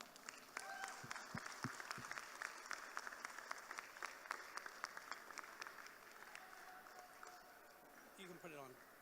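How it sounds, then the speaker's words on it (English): Audience applause for the runners-up, a New York table tennis club, at a North American team championship final; steady scattered clapping across the hall with a few sharper nearby claps, voices faintly underneath. "give a big round of applause to our runners-up from New York, Nissan's Table Tennis Club"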